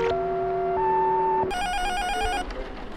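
An electronic phone ringtone in a video game plays a sequence of tones, switching to a bright, trilling ring partway through, steady and clear.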